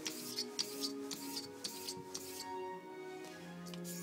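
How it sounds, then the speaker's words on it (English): A Swedish steel blade sharpened on a 1000 grit King whetstone, quiet repeated rubbing strokes in an even rhythm, close and soft. "I'm going to set the bevel using a 1000 grit king."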